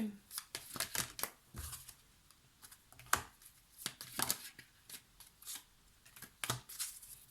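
Tarot cards shuffled by hand, a run of quick riffling, flapping bursts in an irregular rhythm, close and fairly soft, with occasional speech nearby.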